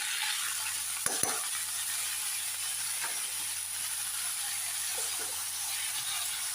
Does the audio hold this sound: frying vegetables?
yes